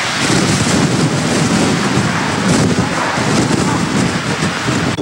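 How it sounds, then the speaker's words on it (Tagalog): Loud, steady roar of typhoon wind with heavy rain pounding throughout, a dense, unbroken wash of noise with no pauses. "sabay na ang malakas na hangin at ulan"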